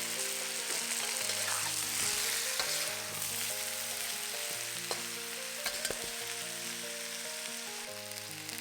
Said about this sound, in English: Fry the chicken till most of it turns white. Now, add in the onions,